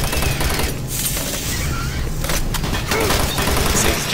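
Rapid machine gun fire from the Doom 3: Resurrection of Evil video game, a loud continuous burst of shots with booming impacts, dense and sustained throughout with no pauses.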